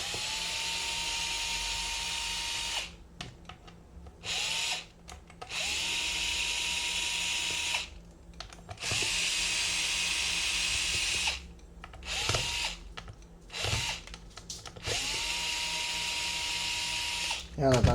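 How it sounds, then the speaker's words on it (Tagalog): A cordless drill backs out five screws from an ADV 160 scooter's panel in repeated close, whirring runs of a few seconds each, with short pauses between them, while someone talks over and between the bursts. "Tatanggalin lang natin itong 5 tornilyo."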